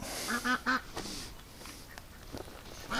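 Ducks quack close by in a quick burst of three loud calls, then scattered softer quacks and rustling follow.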